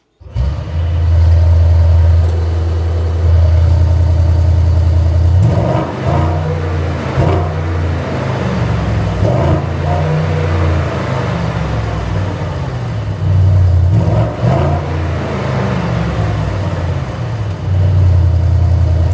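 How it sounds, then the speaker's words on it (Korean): A Mercedes-AMG GLS 63 4MATIC+ V8 SUV engine starts up close by, settling into a deep idle, then revs hard several times with loud throaty surges between quieter idling stretches. "제가 시동 걸어서 한번 엔진음 들어보고 마무리 한번 도와드리겠습니다."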